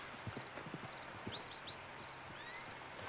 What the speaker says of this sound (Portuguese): Bora, cavalinho pocotó.